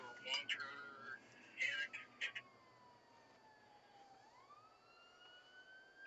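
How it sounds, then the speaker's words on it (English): A few bursts of sound come first, then a police siren tone glides slowly downward and swings back up, moderately loud against a faint background. "I knew I heard a siren."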